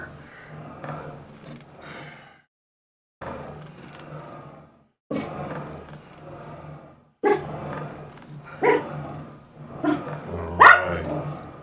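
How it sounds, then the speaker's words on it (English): A dog barks repeatedly in bursts during a rowing machine workout, loud and close, with short gaps and some growly, roaring tones; no talk over it. "You just started rowing and you need to bark?"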